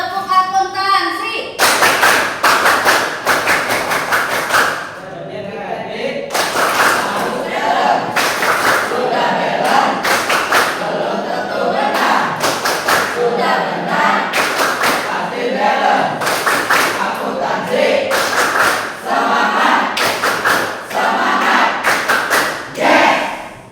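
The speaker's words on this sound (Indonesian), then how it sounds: "Coba, tepuk akuntansi." Schoolchildren in a classroom perform a rhythmic accounting-themed class clap, loud sharp clap bursts in a patterned beat mixed with shouted group chanting that carries on for the whole stretch.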